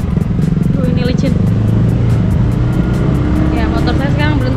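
A motorcycle engine runs loud and steady the whole time on a slippery, muddy rural road near Waringinsari, Takokak, in Indonesia, its tone shifting slightly as the rider goes slowly.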